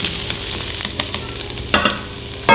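Onions fry in a pan for a lasagna soup with a close, steady sizzle, broken by the quick clatter of stirring and a sharp clink near the end.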